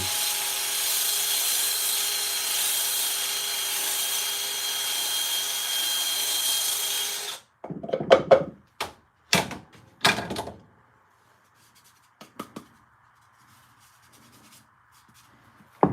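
Loud continuous sanding of a soft wood bowl on a lathe for several seconds stops abruptly, followed by scattered knocks and scraping handling sounds, then near silence.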